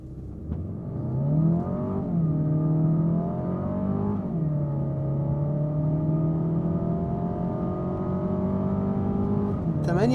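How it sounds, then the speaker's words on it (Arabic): A Mercedes CLA 200 AMG with a dual-clutch gearbox and no launch control accelerates hard. The engine note climbs steadily, drops at two quick gear changes, then pulls on strongly up close before a brief noise at the end. "تعالوا نجرب التسارع، ديول كلتش ومفيهوش لونش كنترول"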